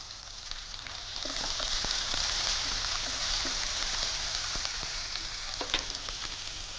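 Steady sizzle of onions frying in oil with scattered crackles and pops, close and continuous, no voices.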